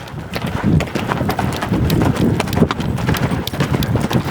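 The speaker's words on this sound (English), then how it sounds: "Get a couple strides at the lope." A young colt lopes under a rider on its first ride, its hooves drumming in a close, steady three-beat rhythm over dirt, clear and prominent throughout with no talking.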